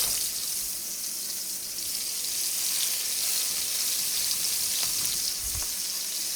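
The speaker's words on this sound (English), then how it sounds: "okay, the pan is hot enough. Let's add our burgers." Burger patties sizzle steadily in a hot pan while a bacon cheeseburger with bourbon onions is cooked, a dense continuous frying hiss with a brief louder crackle and thump near the end, no talking.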